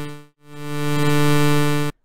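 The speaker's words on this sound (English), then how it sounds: "And tremolo sounds like this for you guys who are not familiar with it." A sustained synthesizer tone from an FL Studio 3xOSC patch, with volume tremolo from an LFO, swells in after a brief gap, then holds for about two seconds before cutting off sharply.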